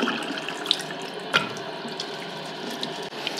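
Running water rinsing water-based automotive primer off a surface, a continuous close splashing stream with occasional small knocks and drips throughout.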